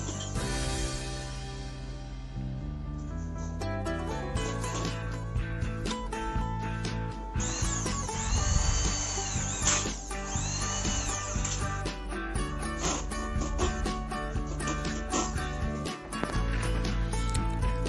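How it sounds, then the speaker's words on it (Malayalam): A power drill drives screws to assemble an aluminium kitchen drawer frame, whining loudly and continuously in repeated bursts with rising and falling pitch, close up and with no talking. "നമ്മൾ 64 സ്ക്രൂ വെച്ചിട്ടാണ് നമ്മളിതിൻ്റെ ഫ്രെയിം കൂട്ടുന്നത്."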